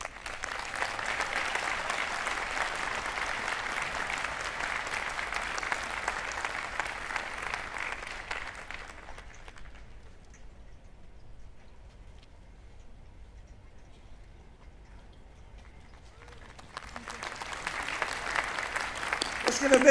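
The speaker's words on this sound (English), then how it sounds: "Let's give a big round of applause to both of our honorees today." An audience at Miami University's 183rd spring commencement applauds, a broad wash of clapping for about nine seconds that fades to near quiet before another burst of applause rises at the end.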